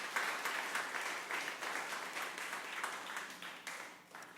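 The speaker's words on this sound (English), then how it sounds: "So one more time, applause for Kim." An audience applauding a storyteller at a story night, steady dense clapping that holds for several seconds and then tapers slightly toward the end, no talk heard.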